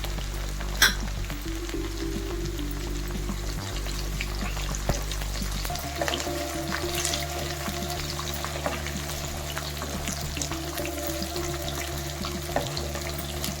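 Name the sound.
onions and curry leaves frying in oil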